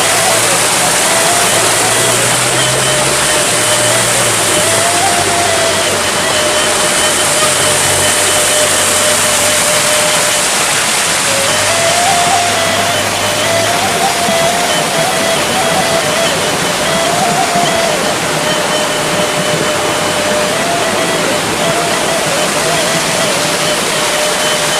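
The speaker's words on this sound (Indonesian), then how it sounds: "Sudah terbuat arus sungai kecil." A small new stream flows after a landslide at Gunuang Linggo, making a loud, continuous broadband rush of water for the whole stretch, with a faint steady tonal hum running underneath.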